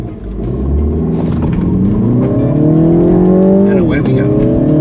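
A 2015 MINI Cooper S accelerates hard on a race track, its engine note climbing loudly through the revs, dipping briefly at a gear change, then pulling upward again, close and dominant.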